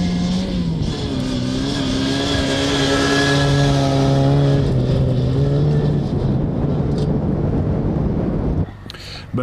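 An Opel Corsa rally car drives hard at the Tenneville rally, its engine loud and close with shifting revs that climb and drop before the sound cuts away near the end, with voices audible over it.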